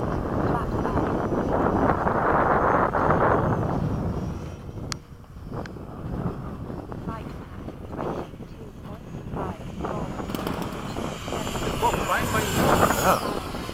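A 70mm FMS F/A-18 radio-controlled jet makes a flying pass, its ducted-fan whine rising, fading, then building again, heard from a distance under steady wind noise on the microphone.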